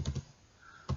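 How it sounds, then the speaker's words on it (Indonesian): A few computer keyboard keystrokes while entering an IP address for a router interface in a network simulator, two quick taps at the start and one more near the end, close and fairly clear with a quiet pause between. "Kita ketikkan IP address"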